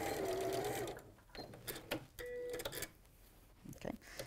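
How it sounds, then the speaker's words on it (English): A sewing machine runs loudly, stitching a bag seam to the end in one continuous whir, then stops, leaving scattered clicks and handling noises. "Right, so sew all the way to the end."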